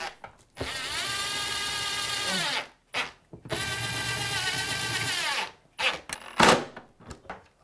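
A power drill drives bolts while a HUSFU oversized chaise lounge sofa bed is being assembled: two long, steady whirring runs of motor whine, then several short bursts, close and loud with no talk.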